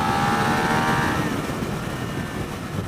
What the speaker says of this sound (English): And it just gently bumps the rev limiter.